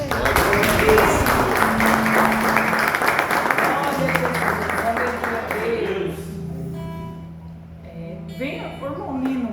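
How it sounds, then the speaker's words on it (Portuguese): A church congregation in Poços de Caldas, Brazil, applauding during a Holy Communion service, clapping loudly at first under a speaking voice, then fading out as talk continues. "Em nome de Jesus e as palmas"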